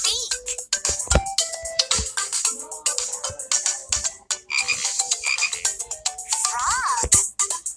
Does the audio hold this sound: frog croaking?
yes